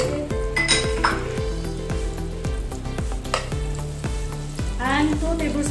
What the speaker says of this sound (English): Now let's start to fry my sauce.